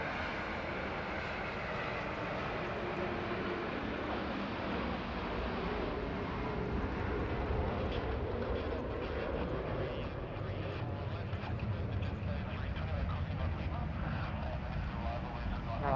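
An airliner departs Sydney Airport for Singapore, producing a broad, steady jet engine roar that holds loud and continuous from a distance, with voices talking over it.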